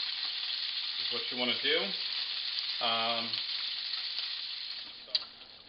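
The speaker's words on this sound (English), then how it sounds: "But just cooking them, turning them over, letting them all cook" Bacon bourbon meatballs sizzle steadily in a pan with a constant frying hiss, while someone talks briefly over it and a small clink sounds near the end.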